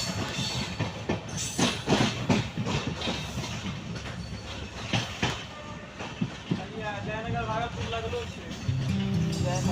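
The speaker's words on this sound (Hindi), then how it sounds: "स्वतंत्रता सेनानी सुपरफास्ट एक्सप्रेस।" The Swatantrata Senani Superfast Express rolls past at close range, a steady loud roar with rhythmic wheel clatter from its coaches, and a voice can be heard over it.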